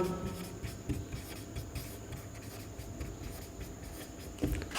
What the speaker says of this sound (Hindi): तो सीधा लिखेंगे